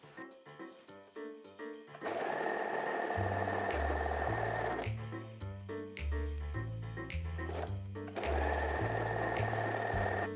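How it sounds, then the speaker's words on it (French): A home sewing machine runs zigzag stitches around the edges of fabric pieces for a culotte skirt. It plays in steady bursts of motor hum and rapid needle thumping, close and loud, with short pauses between runs. "on va surfiler tout le tour avec un zigzag de la machine à coudre"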